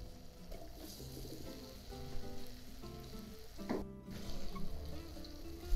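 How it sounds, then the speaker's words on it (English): Sliced onions sizzle steadily in melted butter in a pan, a close, even frying hiss with a brief stirring clatter partway through. "Once your butter is melted, add in your sliced onions."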